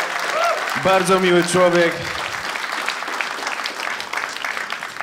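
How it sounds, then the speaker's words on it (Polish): Clapping from a stand-up comedy crowd keeps going as a steady wash under a voice, continuing after he stops talking. "dajcie jeszcze brawa"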